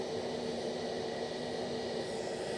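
An airplane at Edinburgh Airport produces a steady, broad engine roar that holds at an even, moderate level throughout, with no voices over it.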